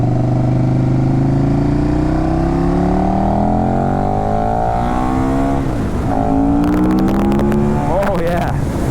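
A 2015 KTM Super Duke Gen 1 motorcycle engine revs loud and close, pitch climbing steadily through the gears under wind rush, then dipping at a shift before pulling hard again in third.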